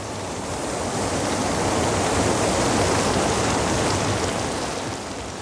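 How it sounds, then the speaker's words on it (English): Active geysers in Russian wilderness shooting spurts of water and steam high into the air, a loud continuous hissing roar of rushing water and vapor that rises and holds steady before easing slightly. "There are 22 active geysers, shooting spurts of water and steam 130 feet into the air."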